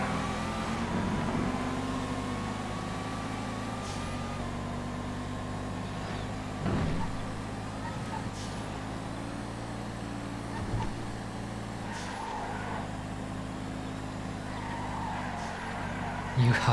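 An Audi driven in GTA FiveM runs with a steady engine drone and tyre noise throughout, faint squeals now and then, as people talk over it.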